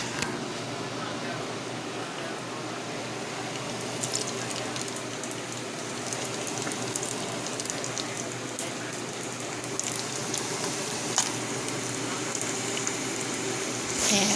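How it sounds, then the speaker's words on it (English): Crab rangoons deep-fry in hot oil with a steady, even bubbling hiss broken by scattered small crackles throughout. "time to fry some crab rangoons"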